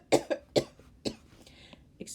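Several sharp coughs in quick succession, close and fairly loud, followed by a brief throat-clearing sound.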